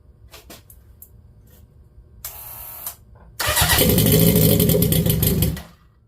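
Turbocharged Honda CB750 pro-mod motorcycle engine starting up: clicks, then a short starter crank, a pause, and the engine catching into a loud, sustained close-range roar that cuts off near the end.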